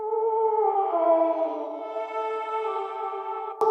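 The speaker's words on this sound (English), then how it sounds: "This sound is actually called Bangers." A sustained synth tone from a Kontakt library patch called Bangers holds a smooth layered chord that swells slightly, moderately loud and alone, cut off by a sharp click at the end.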